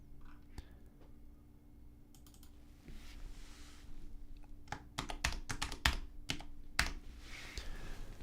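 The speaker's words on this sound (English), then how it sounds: "we have to type the name in" Keys on a computer keyboard clatter as a name is typed, starting with sparse taps and picking up into quick bursts of loud clicks near the microphone, with no talk.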